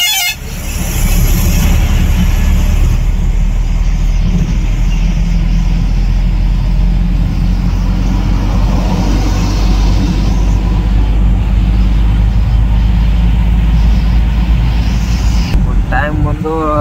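Loud, steady engine drone of a house-shifting transport truck on the road, heard from close by throughout with little change; a horn-like tone sounds briefly near the start.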